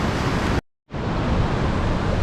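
Surf waves breaking on a pristine beach near Camel Rock at Bermagui, a steady close wash of roaring noise that cuts out abruptly for a moment, then returns.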